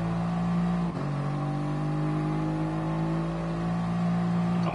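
A race car engine droning at high, steady revs in the video game Gran Turismo Sport, a loud sustained tone with a brief dip near the start and no talking.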